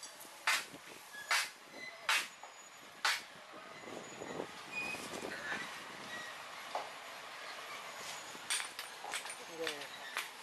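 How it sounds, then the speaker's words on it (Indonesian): A small lorry locomotive rolls along an old, long-disused rail line overgrown with grass: a few sharp clanks early on, then a low rumbling run with scattered knocks and squeals, and soft voices in the background. "setelah jalur rel selesai diperbaiki, lokomotif melanjutkan perjalanan"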